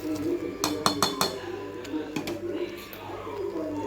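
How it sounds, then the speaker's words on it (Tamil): A spoon clinks against a metal pot as powdered jaggery is stirred into sago and moong dal payasam on the stove: a quick run of bright taps, then softer scraping over a low steady hum. "இப்போ கலந்து விட்டுக்கலாம். வெல்லம் நல்லா கரைஞ்சி வரட்டும்."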